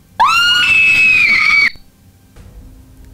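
Woman's loud, sustained high-pitched scream used as a sound effect in a narrated Korean horror story, one long wavering shriek of about a second and a half that cuts off abruptly, followed by near silence.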